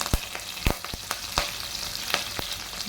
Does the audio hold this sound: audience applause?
no